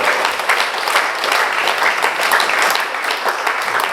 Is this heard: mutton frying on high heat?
no